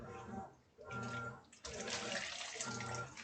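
Water is poured into a pot while cooking on a budget, a soft gushing splash in two bursts with a short pause between, faint and close.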